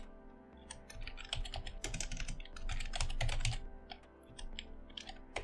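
Rapid keystrokes on a computer keyboard as code is typed, close and clear in irregular bursts with short pauses between runs.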